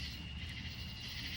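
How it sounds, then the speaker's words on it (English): Steady, continuous cricket chirring in a high band, faint and even throughout, with a low rumble of background noise beneath. "It's a mating call for crickets."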